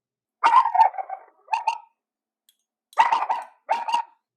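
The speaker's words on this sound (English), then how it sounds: "There goes my dog." A pet dog barks in two bursts of several sharp, close barks with a short quiet gap between them, in a home kitchen while a Greek salad is being made.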